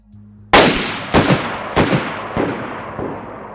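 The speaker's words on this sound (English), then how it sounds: "the Mosin has a unique sound at point blank range and 50 to 250 meters too" A Mosin rifle shot in the DayZ video game fires once with a loud, sharp crack, then rolls into a long echoing tail with several quick rebounding reports fading over a few seconds.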